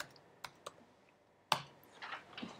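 Short search being typed on a computer keyboard, a few isolated clicks followed by a quick cluster of keystrokes, close but quiet in a silent room, no talking.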